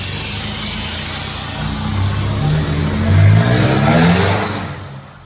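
An Isuzu 4JJ3 diesel truck with a 4-inch stainless straight-through DPF-back exhaust revs and rumbles up to a peak and then settles back down, loud, barky, close and deep, with no voices.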